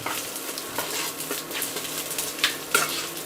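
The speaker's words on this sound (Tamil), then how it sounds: "இப்போது இதை வதக்கிறோம் மறுபடியும் வதக்குறோம்" Onions and pirandai herb are sautéed in a pan with a continuous sizzle close by. Repeated spatula stirs and scrapes tap against the pan, with no talking.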